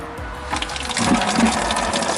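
Blue coolant gushes from a hose just popped off the engine of a BMW E92 335i, a steady splashing pour into a bucket that swells slightly louder partway through, with no voices.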